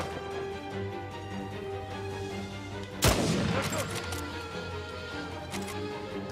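Burst of gunfire in the video game Uncharted 4, a sudden loud volley around the middle cutting through steady game ambience and music, then trailing off.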